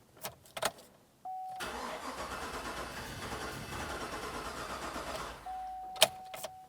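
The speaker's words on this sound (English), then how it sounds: "Now we did crank the vehicle." A 2007-2014 GMC Sierra 2500 HD with a 6.0L V8 cranks steadily for about four seconds without catching, the starter's continuous whir loud and close, with clicks from the key before and after.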